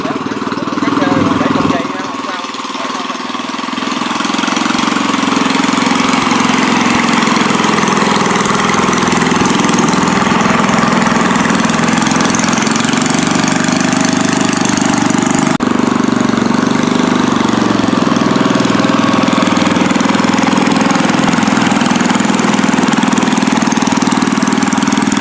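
A small outboard engine on a wooden boat laden with a ton of watermelons, travelling along a narrow canal, runs steadily and loudly throughout with a constant drone, and someone speaks over it.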